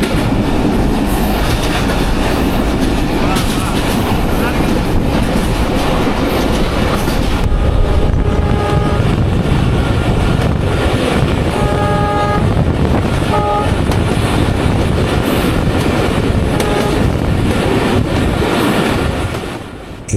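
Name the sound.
Rohanpur commuter train running on the railway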